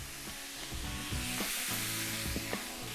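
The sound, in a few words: pan deglazed with vinegar, sizzling gyros meat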